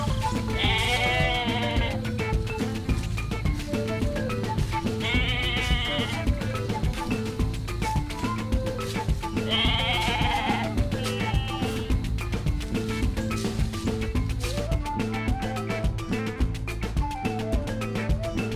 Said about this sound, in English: A, T, goat, goat, G, O, A, T, goat.